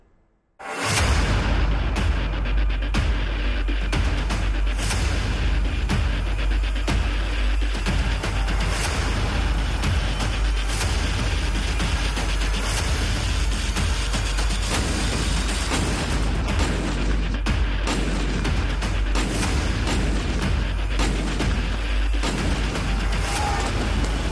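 Dense, continuous roar of Indian-made howitzer artillery firing with explosions, loud and sustained, with booming blasts and rumbling layered together throughout.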